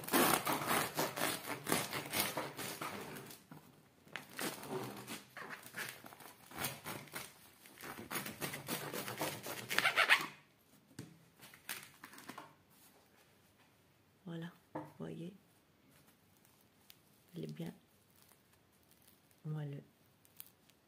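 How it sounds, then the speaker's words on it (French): Knife sawing through a crusty nine-grain sourdough loaf, a loud continuous rasping crunch for about ten seconds, then quieter scattered crackles and a few short bursts, with a voice speaking softly in between. "Je vais le couper pour vous montrer la mie"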